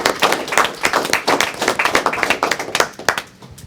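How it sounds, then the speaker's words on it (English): Clapping in a courtroom during a veterans' treatment court hearing, a round of applause for a participant: a small group claps in rapid, uneven bursts that stay close and fairly loud, then thin out toward the end with no talking over it. "So I think that deserves a round of applause from your comrades."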